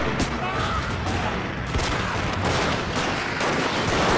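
Musket volleys in Total War: Shogun 2, a dense rattling fusillade of overlapping gunshots repeating in waves between French and American marine lines, loud and continuous.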